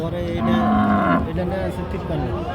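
Cattle at the Chaugachha cattle market in a border area, with one close, loud, drawn-out moo followed by a second, shorter lowing call.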